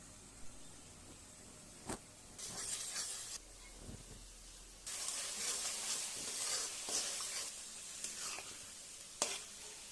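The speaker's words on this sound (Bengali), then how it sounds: "বেগুন ভাজতেছি" Eggplant slices sizzle in a frying pan, a hissing fry that rises and falls with sharp clicks and scrapes from handling, fairly quiet overall.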